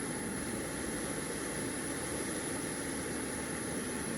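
A small camping stove burner on a 100-gram fuel canister roars in a steady, even hiss, close and constant throughout, with no talking.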